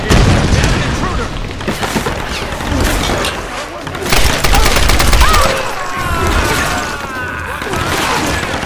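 A grenade blast and bursts of gunfire in the action-adventure video game Tomb Raider (2013): loud, dense rumbling booms and rattling shots fill the scene continuously, with shouting voices mixed in under the chaos.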